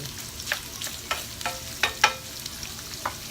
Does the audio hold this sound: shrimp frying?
yes